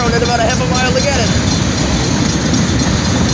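A train rolls along the rail line at the M156 crossing in Morenci, Michigan, a loud steady rumble filling the whole stretch with rhythmic wheel noise and brief tonal squeals near the start.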